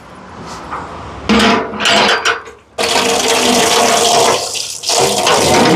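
Water gushes loudly and steadily from a tap in Sri Lanka, starting abruptly after some clatter and running on without pause.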